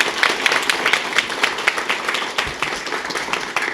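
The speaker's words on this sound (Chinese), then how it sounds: "我想一开始我们应该再一次给吴春成、徐维雅、吴正安，还有张伯峰4位杰出的视障跑者掌声" An audience applauds for four visually impaired runners at a charity run event, giving steady, fairly loud clapping throughout.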